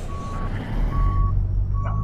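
A rusty truck backing up to load a trailer with sand sounds three steady, evenly spaced reversing beeps over a loud, rumbling engine idle.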